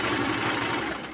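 A sewing machine runs steadily, stitching a rolled hem on a fabric sample with its blade trimming alongside, giving a close, continuous rapid whir and mechanical chatter with no talk.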